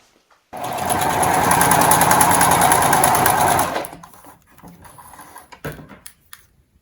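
A sewing machine stitches doll fabric pieces in one loud, continuous whirring burst of about three seconds, then stops, leaving quieter rustling and handling of the cloth nearby, with no one speaking.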